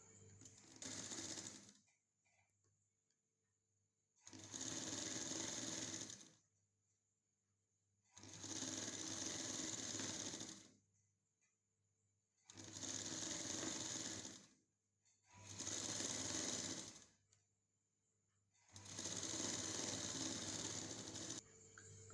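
Sewing machine stitching blouse fabric in a tailoring lesson, running in six separate bursts of steady whirring, each a couple of seconds long, with quiet pauses between.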